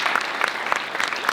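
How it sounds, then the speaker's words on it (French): Audience applause at a florist competition awards ceremony, a brief steady burst of clapping from a crowd, fairly close and even. "Vous pouvez les applaudir au passage"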